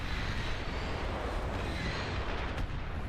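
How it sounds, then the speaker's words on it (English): A video game's long-range plasma cannon fires somewhere out of view. It makes a steady, distant, booming rumble, with a couple of sharper thuds breaking through near the end. "Where am I hearing this plasma cannon from?"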